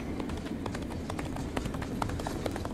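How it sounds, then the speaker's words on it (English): Horse hooves in the video game This Land Is My Land, a fast, steady run of soft clip-clop beats over a constant rumbling game background, loud and continuous throughout. "And now loud horse sound."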